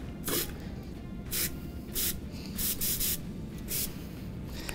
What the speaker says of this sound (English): I'm gonna obviously test spray the tip